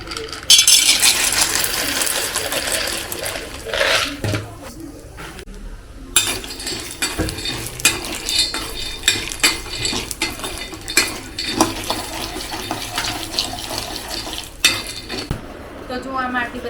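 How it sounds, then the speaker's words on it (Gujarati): Peanuts roast in a pan and are stirred with a utensil. The nuts rattle and the metal scrapes, giving an uneven run of clattering, clicking bursts that fades in and out over several seconds. "પછી વિચાર્યું ચાલો થોડેક સિંગદાણા શેકી નાખીએ."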